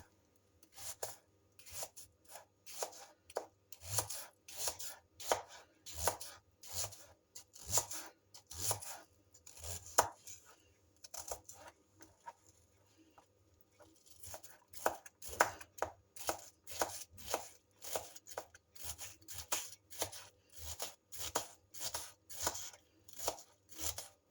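A knife finely chops an onion on a board in quick rhythmic bursts, with a brief pause in the middle before the steady fine chopping resumes, close and clear.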